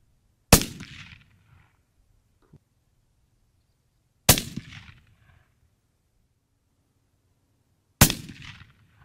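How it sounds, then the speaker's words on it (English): Three loud rifle shots from a Kimber rifle with a Swarovski scope while zeroing outdoors, each sharp crack fading quickly into silence, spaced about four seconds apart. "Well, there's three shots."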